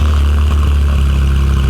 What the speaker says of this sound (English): Put the noisy exhaust button on.